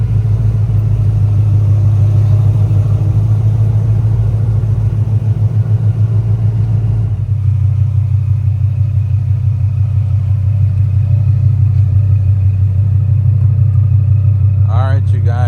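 A 1000hp 2024 Ford Mustang Dark Horse engine idles with a deep, loud, steady rumble, its tone shifting lower about halfway through, while people talk close by.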